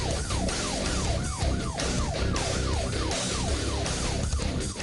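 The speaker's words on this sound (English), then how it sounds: "Probably 4 Tyler Police Department patrol cars running lights and sirens" Several Tyler police patrol cars in a vehicle pursuit wail with rapidly sweeping sirens, loud and continuous, layered over each other with traffic noise underneath.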